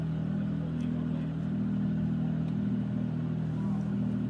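Ferrari 296 Challenge race car at Sonoma during Ferrari Challenge North America qualifying: a steady, distant engine drone with a low hum, faint and continuous throughout.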